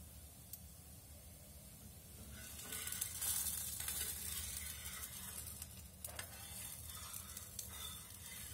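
Onions frying slowly in a pan give off a soft, steady sizzle and hiss that swells briefly, quiet and close with faint stirring.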